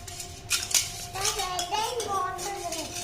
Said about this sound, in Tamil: பேஸ்ட்டை போட்டு கலக்கிறோம்